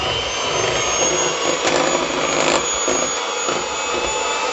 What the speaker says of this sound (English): So I'm going to use an electric beater, mix them until they're nice and creamy.